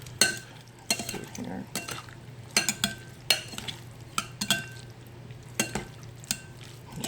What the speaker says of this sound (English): we'll mix this up and I'll show you the end color